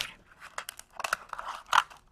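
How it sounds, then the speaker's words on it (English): Scissors snipping through plastic canvas mesh, a series of short, close crisp cuts and crunches at an uneven pace, with no talking. "run your scissors up the middle of this"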